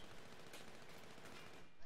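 Rapid gunfire in an online team shooter game rattles in quick bursts, faint and somewhat distant.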